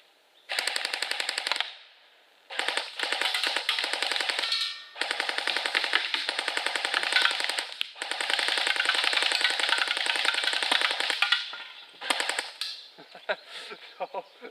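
A CYMA AK47 full metal airsoft gun firing BBs on full auto, several long rapid mechanical bursts separated by short pauses, loud and close with faint background noise.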